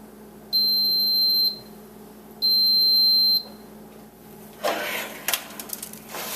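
A kitchen timer goes off after buns bake for 10 minutes: two long, steady, loud electronic beeps, then clattering and handling noises as the oven is opened.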